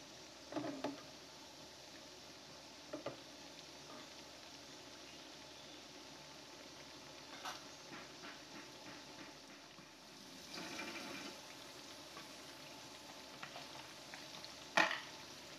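Bakwan vegetable fritters fry in hot oil with a soft, steady sizzle, broken by a few light clinks and stirring sounds, quiet and close with no voices.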